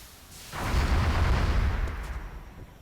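Weapon fire in the tactical game XCOM Enemy Within sounds as one heavy, rumbling blast with a deep low-end roar that swells and then slowly fades over a couple of seconds.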